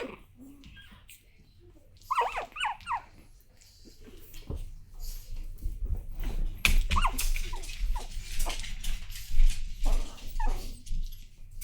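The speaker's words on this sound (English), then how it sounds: "he's like growling or barking in his sleep" A pug puppy growling in its sleep makes soft whimpering yips and low grumbling noises, intermittent and close, with faint background rumble.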